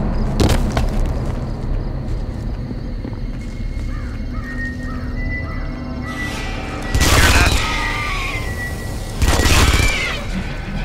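Machine gun gunfire in the video game Aliens vs Predator, sounding as a couple of loud, dense bursts of rapid shots over electronic game ambience and chirping creature-like tones.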